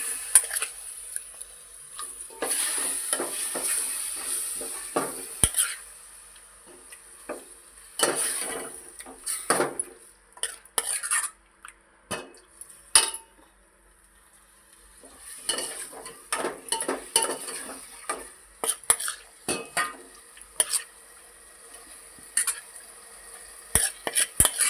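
Chicken pieces go into a pot of hot oil with garam masala and ginger-garlic paste and are stirred, giving a run of scraping spoon and clinking cookware strokes over a light sizzle, close and fairly quiet, with pauses between bursts.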